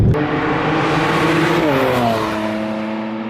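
A 2020 Mercedes-AMG C43 coupe with a 3-litre bi-turbo V6 accelerates hard in Sport Plus mode, a steady loud engine drone whose harmonics climb as it gains revs partway through, heard up close and alone.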